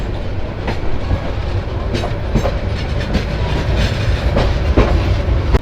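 Tista Express train rumbling steadily through Islampur Bazar railway station in Bangladesh, with loud continuous wheel clatter and rhythmic clicks over the rail joints throughout.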